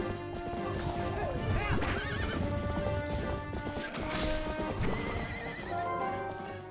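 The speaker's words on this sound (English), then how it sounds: "the horse is running in circles." In The Legend of Zelda: Twilight Princess HD, a horse neighs and whinnies repeatedly over clip-clopping hooves, with game music and crashing bomb effects mixed in.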